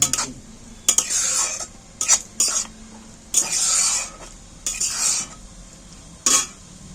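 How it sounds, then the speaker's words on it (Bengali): Fried yardlong beans stirred into a thinned spice paste in a pan for a vegetarian dish, with a series of scraping, clattering spatula strokes in separate bursts, close and fairly loud, with no talk. "তুলে দিয়ে আমি একটু কষিয়ে নিচ্ছি"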